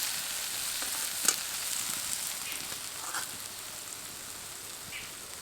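Paneer and vegetables sizzling steadily in a pan with a gentle hiss, one sharp utensil tap early on and a few soft scrapes as the mixture is stirred lightly; no voices.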